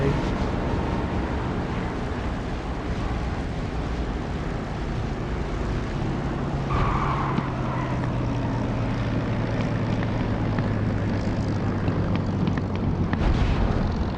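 A rough aircraft touchdown in the DCS flight simulator, a continuous loud roar of engine and airflow with a deeper rumble building midway and a sharp jolt near the end, with no talking.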